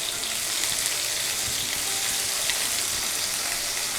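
Chicken shashlik fries in a hot pan with a constant bright sizzle and fine spattering crackle, close and even throughout, with no talk.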